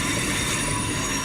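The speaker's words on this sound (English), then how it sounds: "In the last 8 years that I've been here, the noise from the trains has doubled." A suburban train rolls past on the railway track nearby, a loud sustained roar of wheels and carriages with high metallic squealing, no voices over it.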